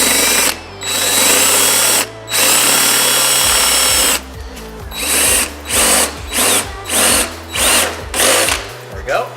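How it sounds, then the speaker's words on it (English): A power drill with a larger bit bores holes while an RB25-swapped S13 rear overfender is installed, a loud sustained whine followed by a series of short repeated pulsed bursts. "So, we've gone up a drill bit size"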